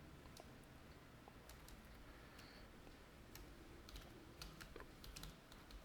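Quiet, close computer-keyboard typing while entering bank details in Tally accounting software: scattered light key clicks that turn into a faster, busier patter toward the end.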